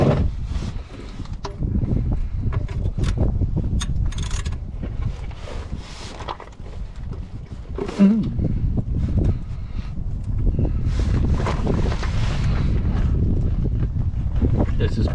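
Strong wind buffets the microphone outdoors beside a backhoe on a windy day, a loud continuous rumbling roar with gusty surges, while someone talks through it.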